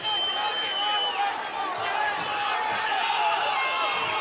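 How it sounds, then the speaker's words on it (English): Crowd at a BAMMA 26 mixed martial arts event before a fight, a loud, sustained roar of cheering with whistles cutting through, filling the arena steadily throughout. "So the crowd are now at fever pitch."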